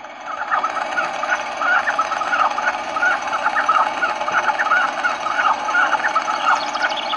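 Chickens in the John Deere Drive Green video game, a continuous busy flurry of clucking and squawking calls from several birds, fairly loud and without talk.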